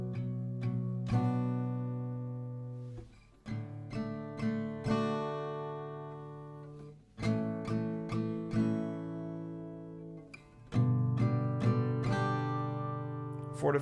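Acoustic guitar strummed with crisp down strokes in an even rhythm, four per chord, chords ringing between strums and changing in small groups, close and unaccompanied.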